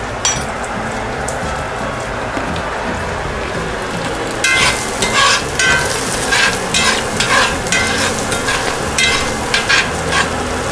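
Bits of fatback frying in a pan give a constant close crackling sizzle that grows louder and busier about halfway through, with scattered popping spatters over the steady hiss.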